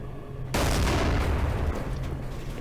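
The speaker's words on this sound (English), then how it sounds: "I'm going to shoot one of those barrels and it's going to blow up some other ones" In Doom 3, a gunshot sets off exploding barrels, a sudden loud blast that erupts out of quiet ambience and then rumbles on as a sustained, heavy roar with chained booms.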